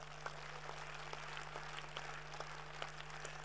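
Faint applause from a seated audience at a gathering, a continuous patter of many hands clapping at a distance, under a steady low electrical hum.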